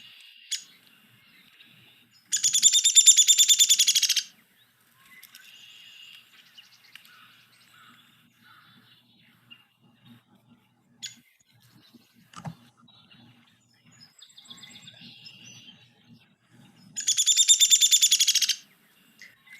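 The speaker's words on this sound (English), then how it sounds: "So notice how it starts with this whinny and then goes down in pitch." A downy woodpecker gives its whinny call twice, a rapid run of sharp high notes that descends in pitch and lasts about two seconds each time. The calls are clear and fairly close, with faint scattered chips and quiet background between them.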